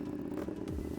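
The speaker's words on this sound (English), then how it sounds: "Up-and-coming racer Troy Tonkin gave us a symphony from his RC 990 race bike." An RC 990 race bike's engine growls in a brief, loud, raspy burst and then falls away toward a lower pitch at a bike show.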